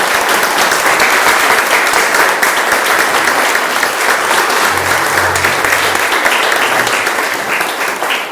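Sustained, loud applause from a church congregation, steady clapping filling the whole stretch without pause.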